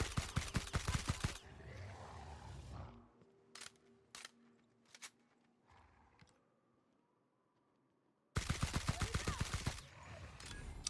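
Rapid automatic gunfire from a gun in The Outer Worlds, loud and close, comes in two sustained bursts at the start and end, with a few sharp single shots in between.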